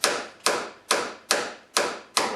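A small ball peen hammer taps out factory door bushings on a Jeep JK, six sharp metallic strikes at an even, steady rhythm, close and loud with short ringing decays.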